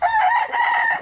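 A rooster crows loudly and close by, one sustained cock-a-doodle-doo with a wavering, strained tone, heard on its own.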